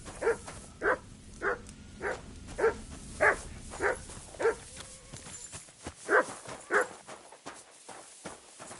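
A dog in Kingdom Come Deliverance 2 gives about ten short, evenly spaced barks or yelps over a low background rumble, fairly close and clear, with no talk over them.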